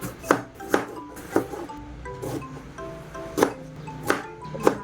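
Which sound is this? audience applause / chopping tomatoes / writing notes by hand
chopping tomatoes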